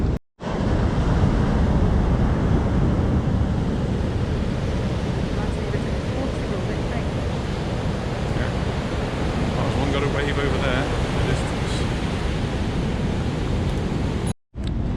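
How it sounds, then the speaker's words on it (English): Rough sea after a storm at Portixol, Palma, makes a continuous loud roar of surf mixed with wind buffeting the microphone, broken only by brief dropouts at the start and end, with no clear talk. "it's certainly freshened up the sea, so we're going to have a look to see what the waves are like."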